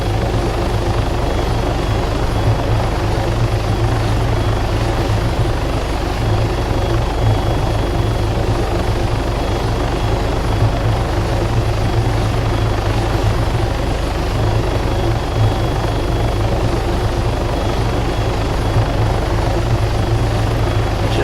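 Steady, loud rotor thump and turbine whine of a helicopter in the Arma 3 military simulator, hovering near a runway, unbroken throughout at close range with no speech.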